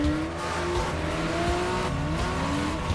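Engine of a Nissan Maxima four-door sports car revving and accelerating in repeated rising pitch sweeps, like climbing through gears, loud and continuous with no voices.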